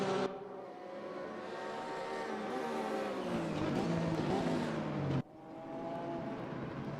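Engines of a Porsche and a Mercedes race car at Laguna Seca in the RaceRoom racing game, revving and shifting, loud and continuous with rising pitch, then an abrupt gear change near the end.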